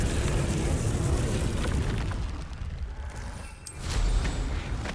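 A fiery Confringo blast spell from Hogwarts Legacy bursts out amid a steady wash of in-game noise and rumble, with a sharper flare of the explosion near the end.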